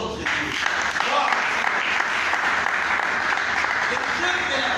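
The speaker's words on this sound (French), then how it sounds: "Applaudissons notre Dieu" Church congregation applauding together, a steady dense wash of clapping that fills the whole stretch at close range, mixed with voices from the crowd.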